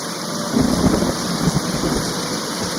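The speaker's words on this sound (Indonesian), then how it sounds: "Hujan berubah menjadi badai." Rain and a thunderstorm out at sea, with a steady broadband wash of rainfall and low rumbling swells of thunder, loud and continuous without any voices.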